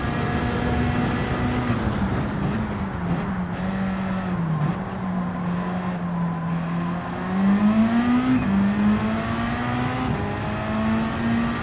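Four-wheel drive race car engine in the Flat Out Racing video game, a loud sustained drone with steady harmonics, the pitch dipping and climbing through gear changes and revs over about eleven seconds, no voices.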